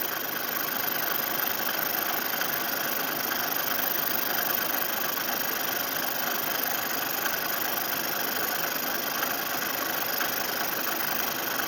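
A Bridgeport milling machine running at about 1400 RPM while cutting a piece of steel, giving a steady, continuous mechanical drone with no break across the whole stretch.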